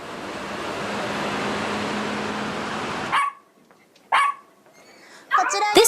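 Dogs at an overnight pet hotel at Haneda Airport, heard at night: a few separate sharp barks and yips after a steady background hum cuts out, spaced apart and fairly close.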